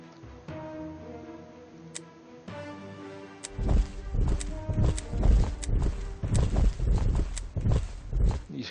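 Horses towing artillery guns in the strategy game Panzer General 2: a run of clip-clop hoofbeats that starts after a quiet tonal stretch and continues steadily, fairly close over a soft background.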